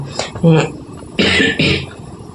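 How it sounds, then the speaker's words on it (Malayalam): Several harsh coughs burst out close by in two quick clusters, with short pauses between them, from a person cleaning a dusty home. "എനിക്ക് ഇപ്പം തന്നെ ചുമ തുടങ്ങിയിട്ടുണ്ട്"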